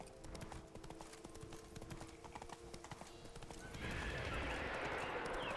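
Hooves clip-clop steadily at a gallop and a horse whinnies, ridden across open ground in The Witcher 3 video game, with a broad whooshing ambience swelling near the end.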